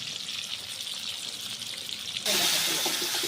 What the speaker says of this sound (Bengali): মাছগুলি প্রথমে ভালো করে ভেজে নেব